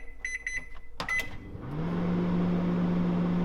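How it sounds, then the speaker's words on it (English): A microwave oven heats an Aldi chunky beef pie: a few short beeps and clicks as it is set, then the steady, loud hum of the running oven. "It says use the microwave for 3 minutes to cook it."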